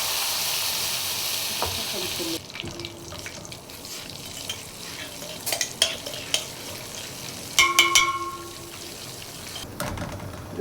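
Onion frying with browned vermicelli in a pan for Egyptian koshary, a steady broadband sizzle with a few sharp clinks and stirring scrapes near the middle and end, and no talking.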